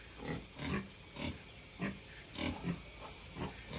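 Farm pigs give short repeated grunts at an irregular rhythm over a constant background hiss, fairly close and moderately loud, with no talking.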